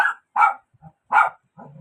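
A dog barks sharply three times at close range, with short whimpering yips in between and no talking, as chicken liver and gizzard dog food is being cooked.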